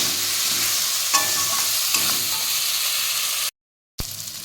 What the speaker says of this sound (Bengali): মশলার সাথে মাছগুলো ভালো করে কষিয়ে নেব